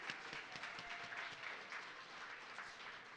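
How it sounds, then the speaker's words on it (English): A crowd applauds with sustained clapping that stays fairly even throughout, heard from a distance and at low volume. "Round of applause for Aaron."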